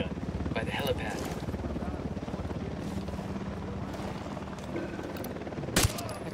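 Helicopter in a stealth action video game, a continuous rotor chop droning throughout with bursts of gunfire, close and loud, while someone talks over it.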